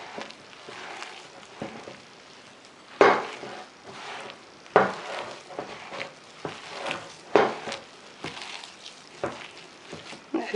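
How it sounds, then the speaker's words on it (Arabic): Iraqi kebab mixture of ground meat and chopped vegetables being mixed and kneaded by hand in a bowl, giving close, wet squelching slaps in irregular bursts, with quieter rustling in between. "اخلط بايدي هنا احسن. نحاول نجانس المواد كلها مع بعضها، اللحم ويا الخضرة."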